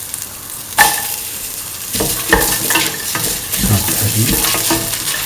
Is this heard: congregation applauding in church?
no